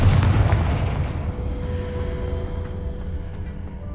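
A Confringo fire spell bursts in Hogwarts Legacy, a loud booming blast that hits at once and then rolls off into a long, fading rumble.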